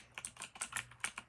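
Typing on a Razer BlackWidow Ultimate mechanical keyboard with green switches produces crisp, clicky keystrokes in a quick, uneven run of about ten presses, close up and fairly quiet, with no voices.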